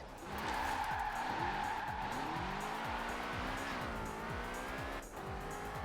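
A car drifts sideways in Forza Horizon 4, tires squealing in long sliding wails over a revving engine that rises and falls with gear changes, loud and close throughout.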